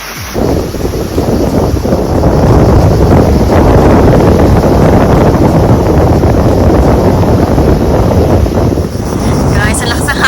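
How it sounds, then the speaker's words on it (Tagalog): Strong wind buffets the microphone at an outdoor beachfront resort in Brunei around early evening, a loud continuous roar with no pauses throughout. "ang lakas ng hangin"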